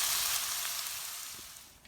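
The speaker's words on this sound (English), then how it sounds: "I'm gonna cover and let it cook for about 8 to 10 minutes." Egg bhurji masala cooking in a covered pan, a soft, steady hissing sizzle that stays fairly quiet and gradually fades, with no talking.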